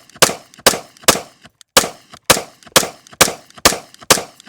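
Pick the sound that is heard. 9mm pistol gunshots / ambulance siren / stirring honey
9mm pistol gunshots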